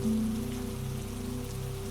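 Steady rain falling on a surface, a continuous close wash of patter with faint low hum underneath, no voices, calm and unbroken throughout.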